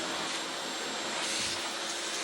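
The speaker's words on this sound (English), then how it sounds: "I'm going to vacuum out both sides" A vacuum cleaner runs steadily as it sucks dirt out of a reusable K&N air filter from a Toyota Tacoma, a loud continuous whooshing hiss with slight shifts as the nozzle moves, no talking.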